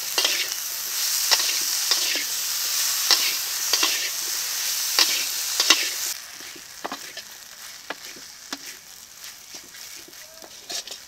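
Eggplant sizzling in hot oil seasoned with salt and turmeric, a steady loud frying hiss broken by regular stirring scrapes, easing to a quieter sizzle partway through.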